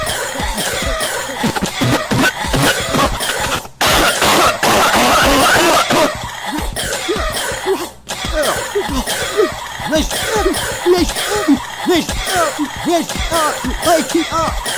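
A baby coughs over and over in loud, choppy bursts, mixed with snickering and chuckle-like sounds that continue for the whole stretch.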